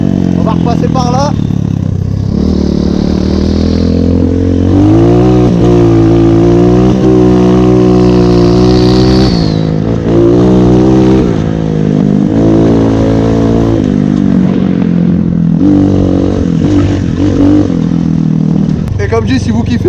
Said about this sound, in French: Une petite minute de moto, tu vois, ça peut être marrant.